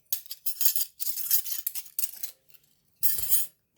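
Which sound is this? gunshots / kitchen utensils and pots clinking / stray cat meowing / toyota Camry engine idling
kitchen utensils and pots clinking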